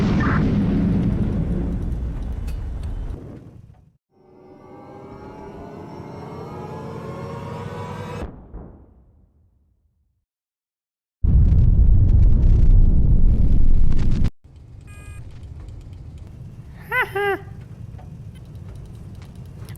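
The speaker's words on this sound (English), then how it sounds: "I'm going to send a missile after them" Missile launch against pirates in the HighFleet strategy game: a roaring, rushing blast with a rising whine, then silence, a loud sustained rumble, and a few short electronic beeps and chirps near the end.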